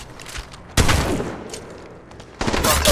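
Gunfire in the Apex Legends Mobile battle royale game: loud, dense automatic bursts break in sharply, ease off during a quieter lull, then resume with another heavy volley near the end.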